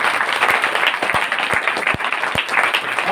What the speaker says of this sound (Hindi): ताली बजाएं परमेश्वर